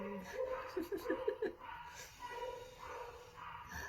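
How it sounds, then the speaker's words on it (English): A few quick dog barks sound near the start, then quieter yips and murmuring voices follow against a soft background. "listen to the music of dogs barking"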